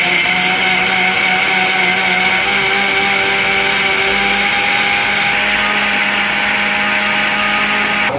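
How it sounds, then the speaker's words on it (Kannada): A mixer grinder blends six tomatoes, giving a loud, steady motor whine with a constant hum that runs without a break for the whole stretch, with no voices over it. "ಇದನ್ನು ಮಿಕ್ಸಿಗೆ ಹಾಕೋಣ ಇವಾಗ."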